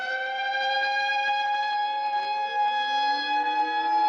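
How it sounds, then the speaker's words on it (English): A civil defense siren wails steadily during a nuclear-weapons-era alert. The layered, sustained tone holds strong and even throughout, with no voices over it. "The sirens were going."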